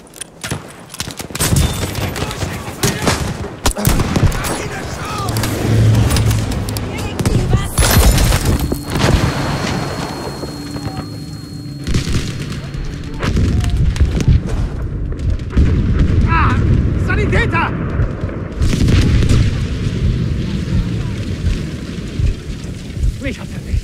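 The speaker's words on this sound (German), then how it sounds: "Ich werfe eine Granate!" Grenade blasts and rattling gunfire fill a Battlefield 5 Conquest battle: dense volleys of shots and deep booming explosions pile up, loud and nearly continuous throughout.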